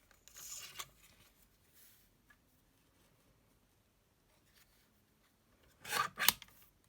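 Scissors cut a paper label strip to size for craft storage: two short, crisp snips separated by several seconds of near silence, faint and close.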